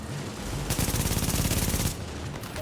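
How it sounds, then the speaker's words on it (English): A submachine gun in a video game fires one rapid, loud burst of about a second, close up, with sustained rattling shots cutting off abruptly. "Pop him with our SMG."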